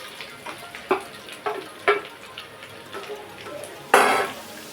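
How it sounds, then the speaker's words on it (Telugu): Green chillies and onions are dropped into hot oil in a pan: a few light clinks of a utensil, then a sudden loud burst of sizzling near the end, close by. "ఆయిల్ హీట్ ఎక్కింది కదండి అందులో పచ్చిమిరపకాయలు ఉల్లిపాయలు మనం వేసేస్తున్నాం"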